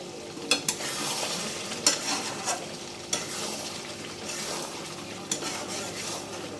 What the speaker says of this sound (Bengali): এই এখানে কষানো হচ্ছে